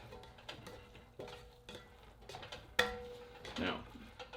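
Vegetables being stirred with curry powder in a pan for a Thai curry, heard as scattered scraping and clinking strokes with a brief louder clatter, fairly quiet and close, with no voice.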